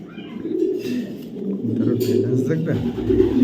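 A checker-patterned male racing pigeon coos close by in a low, rolling run while someone talks over it throughout.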